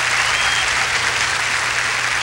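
Studio audience applause for Thalía on a television variety show, a dense, steady wash of clapping throughout with no talk over it.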